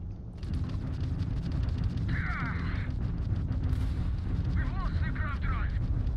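Weapons fire rumbles and booms continuously in Starfield space combat as enemy ship guns shoot from behind, with chirping tonal sweeps layered over a dense, loud roar.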